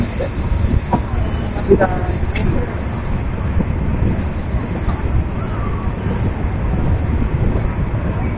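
A steady low rumble of the Madhumati Express passenger train running on tracks, with faint clatter and muffled voices in the background.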